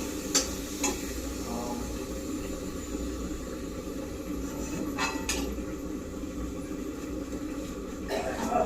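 Potatoes frying in a pan, a continuous sizzle close by with occasional utensil clinks and scrapes against the pan, steady throughout.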